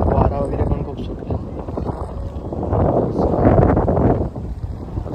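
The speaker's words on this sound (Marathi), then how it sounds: "वारा वगैरे पण खूप सुटला" Strong wind gusts buffet the microphone on a jetty on the Konkan coast, a steady roar with swelling bursts around boats, while people talk nearby throughout.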